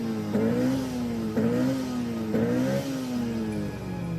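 A Honda Civic Type R EK9 VTEC engine revving hard past 6,000 RPM in three rising high-pitched pulls, each climbing then dropping off, loud and close with no voices.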